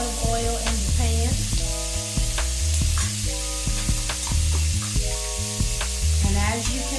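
Shrimp fry in olive oil in a pan, a loud continuous sizzle and crackle with steady spattering throughout, while music plays underneath.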